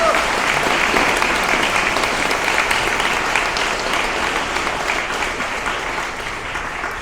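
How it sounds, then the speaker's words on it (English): An audience at a memorial event for lost trees in Bemidji, Minnesota claps in sustained, dense applause, loud and steady before gradually tapering slightly toward the end. "Let's show our thanks with a round of applause"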